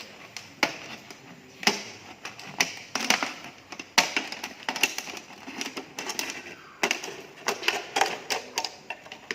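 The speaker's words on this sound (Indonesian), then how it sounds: "baru kita gunting" Scissors snip through a plastic hydroponic pot in a quick series of sharp, crisp cuts, some bunched close together and others spaced apart, close to the microphone with no voices.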